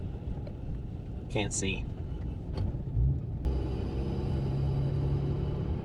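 Strong wind buffets a vehicle driving through a West Texas dust storm, a steady low roar and rumble with engine drone growing heavier partway through, and a voice briefly speaking.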